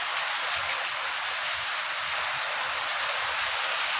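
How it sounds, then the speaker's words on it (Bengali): Heavy rain pours steadily outdoors during a storm, a dense, continuous hiss of downpour close by with no voices and no letup. "বাইরে প্রচণ্ড ঝড় বৃষ্টি হচ্ছে"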